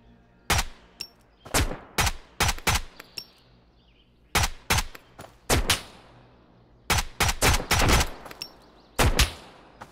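Gunfire in the shooter game Road to Vostok: repeated loud, sharp shots in uneven bursts and clusters across the whole stretch, each with a short echoing tail and no voices over them.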